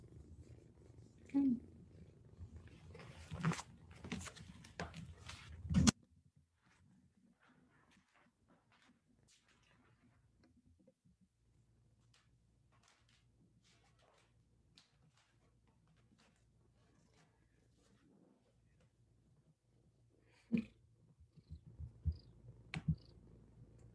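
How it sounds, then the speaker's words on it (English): Low, continuous purring from a cat close by, steady through the middle, with clicks and handling noises at the start and end. "I don't know if you can hear the purring. It's quite loud,"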